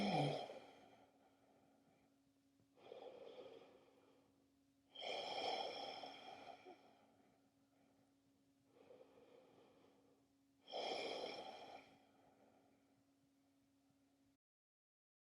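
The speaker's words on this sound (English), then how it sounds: "And breathe." Deep, slow breaths during a hip-opening vinyasa yoga session: four or five long, airy inhales and exhales in an even rhythm, close and soft with quiet pauses between them, no talking.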